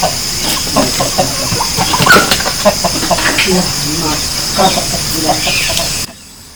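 Laying hens bought for egg production cluck in a store room at a eucalyptus nursery, with scattered, close clucks and calls over a low steady hum.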